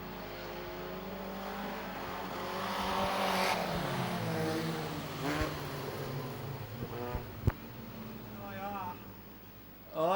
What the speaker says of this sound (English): Let's see what unfolds in the final heat for the 4-cylinder Speedway Sedans